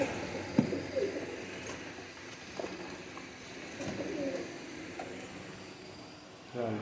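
Rampuri pigeons coo in soft, repeated throaty calls, fairly close and moderately quiet, over a low background hum with faint voices.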